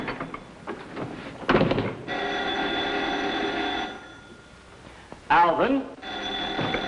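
An office telephone in an old black-and-white sitcom rings in long bursts, pausing between rings, loud and close, while a person briefly speaks between the rings.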